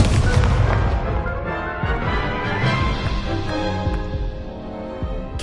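Incendio fire spell in the video game Hogwarts Legacy, a dense roaring burst of crackling, booming flame and impact effects that fills the whole stretch without a break.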